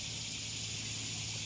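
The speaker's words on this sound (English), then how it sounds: "Got plenty of cicadas out there squawking at us." Cicadas buzzing in trees along the Northeast Cape Fear River during a fishing outing, a faint, continuous high-pitched drone with no breaks and no other sounds over it.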